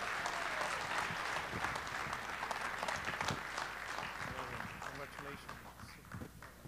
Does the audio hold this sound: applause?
yes